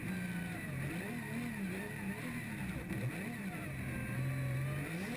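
Onboard engine noise from a Mini rally car on a high-speed section of a Minehead rally stage, a continuous loud drone with wavering pitch as revs rise and fall through gear changes.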